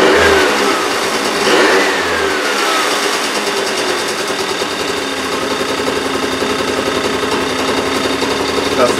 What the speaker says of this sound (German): Gib gleich mal einen Gasstoß, um zu sehen, ob er einsetzt oder ob er wieder ausgehen möchte.